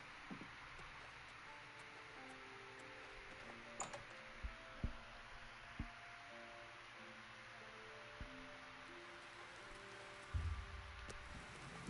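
Steady rain patters softly beneath quiet ambient music in the video game Oblivion, with a few faint ticks and knocks scattered through.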